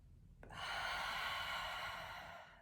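A single long Ujjayi yoga breath, a steady hissing airflow through a narrowed throat, rising sharply and holding for about two seconds close to the listener before easing off.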